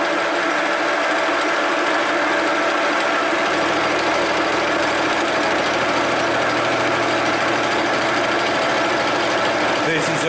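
A small milling cutter takes a 0.5 millimeter cut in metal on a scrap-built machine, giving a loud, steady, continuous grinding whine that runs unbroken throughout, with a brief sharp click near the end.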